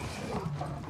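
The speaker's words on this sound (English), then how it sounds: "My horse is slow." Horse hooves clip-clopping in the video game New World: a quick, brief run of soft, muffled hoofbeats under a low, steady background hum.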